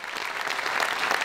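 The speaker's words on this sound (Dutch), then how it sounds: "Geef er een overdovend applaus" Brief burst of loud, dense applause from a sports gala crowd in Peel en Maas honoring an award winner, a continuous wash of many hands clapping.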